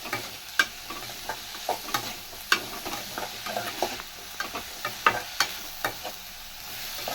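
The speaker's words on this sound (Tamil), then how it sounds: "இஞ்சி பேஸ்ட் போட்டு வதக்குறேன்." Onion and ginger paste sizzle in a pan for potato masala, a steady frying hiss broken by frequent sharp scrapes and taps of a spatula stirring, close and clear.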